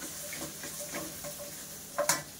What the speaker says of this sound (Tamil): இப்போ இந்த புளியவும் சேர்த்து இந்த எண்ணெயிலே போட்டு வதக்குவோம்.